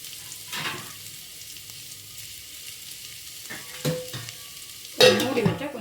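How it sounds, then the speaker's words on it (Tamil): Vegetables for radish sambar sautéing in oil in a home kitchen pan, a low steady sizzle with a few louder stirring scrapes near the end, no talking. "நல்லா கொஞ்சம் வணக்கி விடுங்க."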